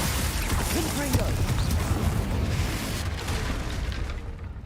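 Confringo spell blasts in the Hogwarts Legacy video game, a dense barrage of booming explosions and crashes with overlapping shouted voices, loud and sustained throughout without clear gaps between bursts.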